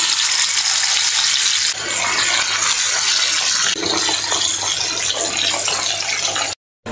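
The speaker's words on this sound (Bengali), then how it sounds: "এখন আমি বাসা মাছগুলো ভেজে নিব।" Basa fish fillets sizzle in hot oil in a home kitchen pan, a loud, dense, continuous crackling hiss that swells in a few steps and cuts off briefly near the end, with no talking.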